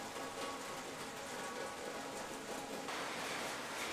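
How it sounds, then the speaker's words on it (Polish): Heavy rain pours steadily in a coastal surf town in Puerto Escondido, Mexico, a dense, even hiss of drops drumming on surfaces that fills the whole stretch without pause, close and loud, with no voices. "No, w końcu zaczęło lać. Pada."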